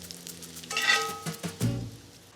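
Red onion cooking in rendered bacon fat in a pan, a soft sizzle with a few clattering strikes and stirring scrapes, close and moderately loud, with no talking.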